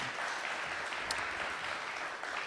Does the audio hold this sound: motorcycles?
no